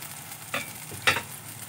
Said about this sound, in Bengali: খুব ভালো করে আমি মিশিয়ে দেবো পেঁয়াজের সাথে।